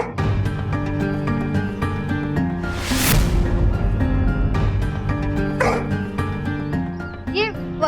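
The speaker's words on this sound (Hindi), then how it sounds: "ये बल्लू को देख के भौंक क्यों रहा है?" A dog barks repeatedly in quick yips under loud music and sound effects, with a whoosh near the middle and voices in the background.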